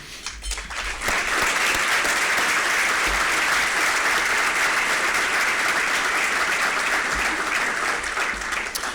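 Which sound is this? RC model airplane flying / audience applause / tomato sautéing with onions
audience applause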